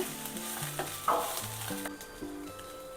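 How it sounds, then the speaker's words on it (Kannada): Cloves, cinnamon and cardamom sizzle softly in a pan while being stirred, with a few scraping strokes over steady tonal background music. "2 ಲವಂಗ, ಚಕ್ಕೆ, ಏಲಕ್ಕಿ ಇಷ್ಟನ್ನು ಹಾಕ್ಕೊಳ್ಳೋಣ. ಇದೇನು ಹುರಿಬಾರ್ದು, ಸ್ವಲ್ಪ ಅಷ್ಟೇ ಮಿಕ್ಸ್ ಆದರೆ ಸಾಕಾಗತ್ತೆ"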